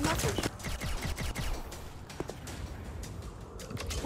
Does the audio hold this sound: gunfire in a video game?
yes